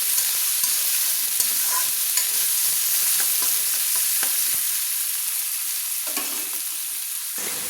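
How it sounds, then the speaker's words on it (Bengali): Onions fry in oil in a pan while being stirred to golden brown for a prawn malai curry. A continuous bright sizzle carries throughout, broken by occasional scrapes and stirring clicks, with no voices. "নেড়ে নেড়ে তেলের সঙ্গে আমি পেঁয়াজগুলো ভেজে নিচ্ছি, গোল্ডেন ব্রাউন করে নিচ্ছি।"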